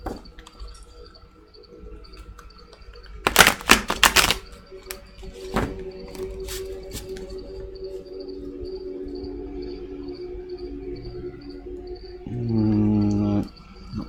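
Tarot cards shuffled by hand give a few crisp, rapid riffling bursts partway through, set against a quiet, steady background hiss and faint chirping.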